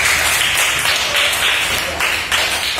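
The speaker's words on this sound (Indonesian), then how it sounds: "tepuk tangan untuk kelompok 2" Classmates in a school classroom clap for group 2, a dense, bright burst of many hands patting in uneven rhythm, close and steady for a few seconds.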